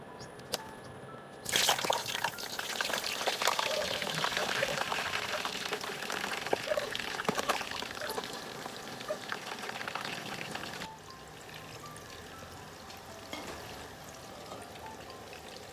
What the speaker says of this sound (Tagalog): deep fry po natin muna ang talong